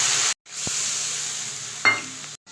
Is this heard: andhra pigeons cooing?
no